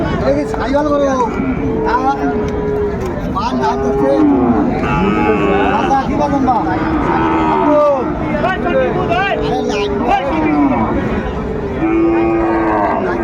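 Sahiwal bulls low repeatedly amid a busy crowd, deep moos rising over constant chatter and background noise at a cattle market in Dinajpur, Bangladesh.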